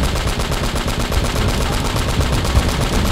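Rapid, dense bursts of automatic gunfire from the Uncharted: Drake's Fortune video game fill the whole stretch loudly and without pause.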